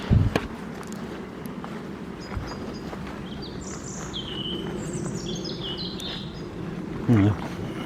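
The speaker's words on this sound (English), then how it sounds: "Birds are starting to wake up a bit now." Birds sing in a nature reserve with bog and woodland, several high chirps and warbling phrases scattered through the middle, over a low outdoor background with footsteps and a brief spoken voice.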